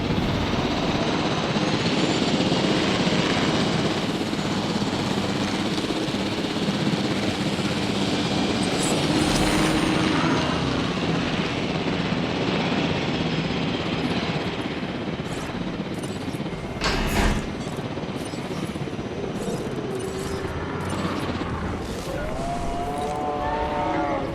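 A helicopter in the game Jurassic World Evolution gives a loud, continuous rotor and engine drone that stays steady throughout, with a brief louder swell partway through.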